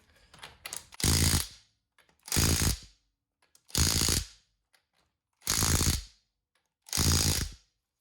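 A Milwaukee M12 cordless power tool set to speed 3 tightens a car wheel in five evenly spaced, loud rattling bursts, each under a second long, with near silence between them.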